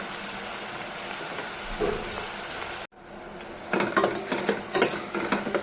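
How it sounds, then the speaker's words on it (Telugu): Onion paste cooks in a pan for an okra and prawn stew, a soft continuous sizzle that cuts out for an instant before returning with louder stirring scrapes. "ఉల్లిపాయ ఇంకా మగ్గాలండి బాగానే"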